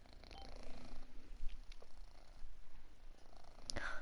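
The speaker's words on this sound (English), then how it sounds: "I'm so sorry if you hear my cat purring." A cat purrs steadily while sitting on a person's lap, a soft continuous rumble close to the microphone, with a brief sharper sniff or rustle near the end.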